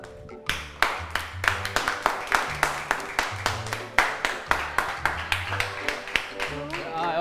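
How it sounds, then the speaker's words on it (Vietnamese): Classmates in a school setting clap in a steady, rhythmic series of sharp claps, about three per second, with brief voices and music underneath. "Vỗ tay nào."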